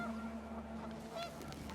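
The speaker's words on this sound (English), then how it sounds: "The wind picked up and panicked geese appeared and quickly went." Panicked geese honk in the video game What Remains, a faint cluster of several overlapping honks over a low steady wind-like hum, with no talk.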